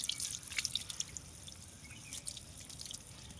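Freshly cut jackfruit pieces drop into a bowl of water, making faint close plinks and small splashy drips scattered irregularly over a quiet background.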